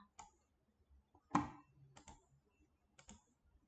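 Computer mouse clicking during office sales software work, a few sharp isolated clicks spaced about a second apart, one louder than the rest, in a quiet room.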